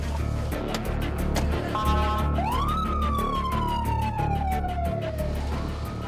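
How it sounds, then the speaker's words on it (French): An ambulance rushing to a traffic accident in San Salvador blares its siren, a wailing tone sweeping up then slowly gliding down, loud over rumbling road noise and a pulsing rhythmic background. "Nous sommes pressés, c'est pour cette raison que la sirène est en marche."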